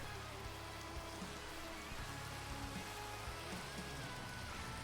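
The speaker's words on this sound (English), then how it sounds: "It's raining." Minecraft rain patters steadily and quietly, a continuous soft hiss of drops with occasional small taps, heard alone without talk.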